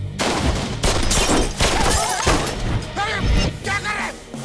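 Rapid bursts of gunfire crack and boom at close range throughout, dense and loud, with shouting voices mixed in among the shots.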